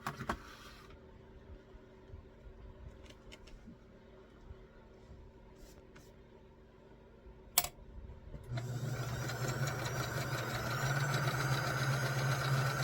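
A sewing machine stitches a quarter-inch seam joining two pieces of fabric. After a quiet stretch with scattered small clicks and a sharp tap, the motor starts near the end with a steady, close whirring hum.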